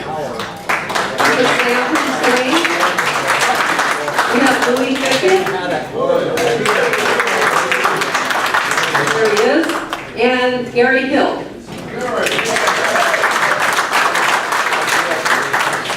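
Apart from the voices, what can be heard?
audience applause at a Lions Club ceremony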